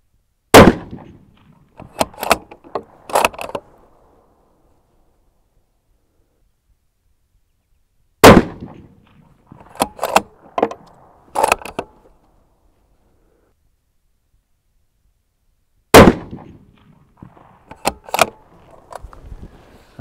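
Three loud, sharp rifle shots aimed at a target, each one an isolated crack with a brief echo tail, arriving about eight seconds apart. Each shot is followed by a short cluster of clicks and rattles from the rifle being worked.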